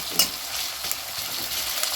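Chopped onion and garlic sizzling in hot oil: a dense, even frying hiss held close throughout, with a few sharp spits and pops.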